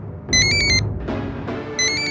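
A phone ringtone in a Hindi TV drama scene plays two short bursts of bright, pulsing electronic tones separated by a pause, with a quieter muffled sound between them.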